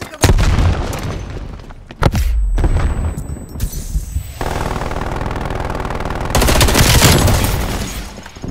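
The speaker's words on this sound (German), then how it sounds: "Granate geworfen." A grenade blast in the Call of Duty Black Ops Cold War team deathmatch, a heavy boom with loud bursts of gunfire and further crashing impacts over roughly eight seconds of dense, close combat noise.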